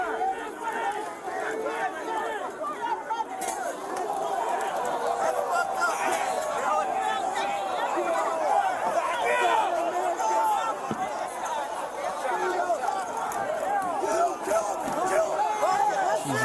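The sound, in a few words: noisy protest crowd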